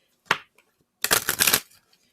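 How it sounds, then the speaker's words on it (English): A tarot card deck is shuffled close up: a quick single riffle snap, a pause, then a fuller half-second burst of cards fluttering together before it stops. "you want to make sure that your deck is properly shuffled"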